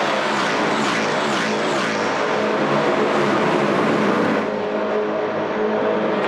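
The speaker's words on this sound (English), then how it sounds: "These Coyote engines just unleashed at nearly 280 kilometres an hour on the run to turn number 1" Loud, continuous roar of several S5000 race cars with Ford Coyote V8 engines at nearly 280 km/h at The Bend, a dense wall of engine noise that thins slightly near the end.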